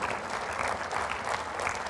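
Sustained audience applause fills a hall during the 2013 Temecula State of the City Address given by Mayor Mike Naggar: dense, even clapping from many hands, close and loud throughout.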